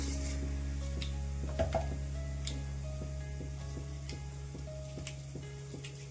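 Mustard and cumin seeds tempering in about two tablespoons of hot oil: faint, scattered pops and ticks come at irregular intervals over a quiet steady background, with no voices.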